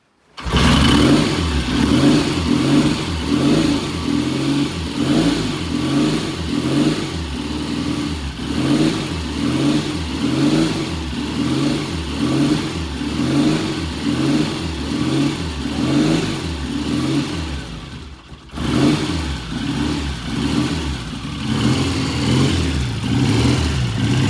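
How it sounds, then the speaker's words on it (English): A car engine warms up and idles in a repair shop, a loud, steady, rhythmic throb that continues for the whole stretch with a brief dip near the end and no talk. "Warm it up, let it idle"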